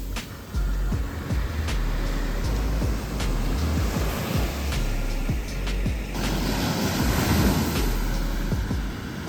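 Ocean waves at Polo Beach on Oahu, Hawaii, roll in a continuous broad wash, with soft thumps and surges breaking through the steady roar from nearby.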